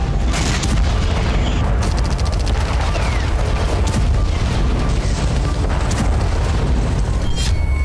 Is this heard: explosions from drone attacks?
yes